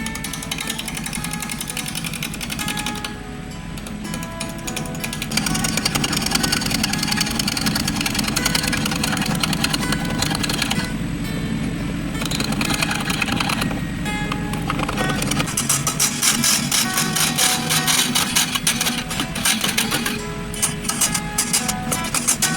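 Wood lathe spinning a mallee burl, an Australian timber, a steady low motor hum with rough, intermittent scraping bursts as the tool bites the uneven burl, close and continuous.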